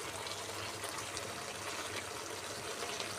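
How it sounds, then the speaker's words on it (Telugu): Steady running water, a glass of water poured into a cooking pot of curry, a continuous trickling pour with no breaks, fairly close and moderately loud. "ఒక గ్లాసు వాటర్ వేసుకున్నాము"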